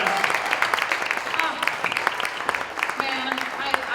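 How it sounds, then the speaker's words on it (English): Audience applause at a concert, dense clapping from a crowd over a steady wash, with talking mixed in around it. "Give her a round of applause"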